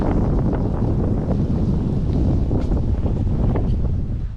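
Cold 14-degree wind buffets the microphone outdoors beside a 2022 Honda Civic, a loud, constant low rumble with no speech.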